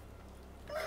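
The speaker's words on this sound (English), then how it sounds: "It's a chicken." A chicken in the video game Sekiro gives a short, faint cluck near the end, over a low, quiet game background.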